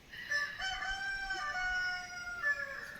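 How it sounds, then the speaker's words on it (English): A rooster crows in the morning in Sikkim, one long drawn-out call, fairly distant and faint over quiet outdoor background noise. "we also have the hen or the cock going on, reaching out to people saying that it's morning."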